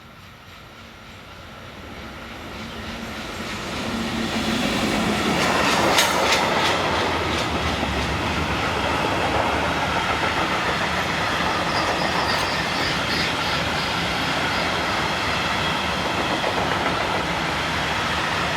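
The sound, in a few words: Class 77 locomotive hauling empty lime hopper freight train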